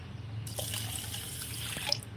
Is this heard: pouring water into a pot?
yes